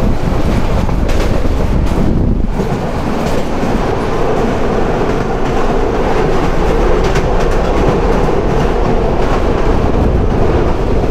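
Meghna Express intercity train from Chandpur, heard from on board while travelling toward Feni Junction: a continuous loud rumble of wheels and carriages with rattling, clickety-clack and wind buffeting, no voices.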